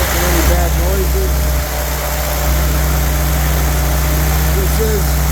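Rebuilt spare engine for a 1948 Willys idling smoothly and steadily up close, a constant low hum with a brief dip partway through, and someone talking over it.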